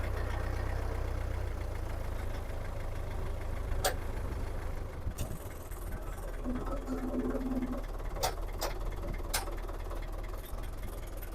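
A Belarus tractor engine idles in a steady, low droning hum, with a few sharp clicks and knocks scattered throughout.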